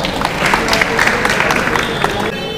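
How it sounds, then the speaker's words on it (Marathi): Studio audience at a televised quiz show applauding a contestant, a dense steady wash of clapping and crowd noise held for a few seconds, with some voices mixed in. "सोहम यांच्यासाठी जोरदार टाळ्या होऊ द्या एकदा"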